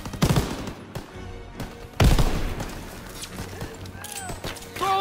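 Call of Duty WWII battle: bursts of machine gun fire and rifle shots crack loudly in the foreground amid shouting soldiers and distant battlefield noise, with sharp impacts between volleys.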